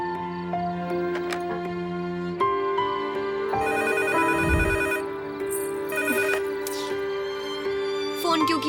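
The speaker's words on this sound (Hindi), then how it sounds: "रिसीवर उठाकर साइड में रख दो माँ, फिर नहीं बजेगा।" A home telephone rings repeatedly, its bell tone mixed with background music and voices talking nearby, at moderate loudness throughout.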